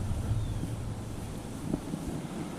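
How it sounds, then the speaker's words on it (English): Strong wind buffets the microphone at a fishing spot, a continuous low roaring rumble with no voices. "Of course it has to be so freaking windy."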